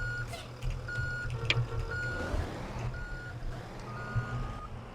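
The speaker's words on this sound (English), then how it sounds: "Your backup alarm is much higher than mine is." A Blue Bird TC2000 school bus in the Rigs of Rods driving simulator sounds its backup alarm, a series of evenly spaced beeps over a low engine drone, with a second alarm faintly overlapping.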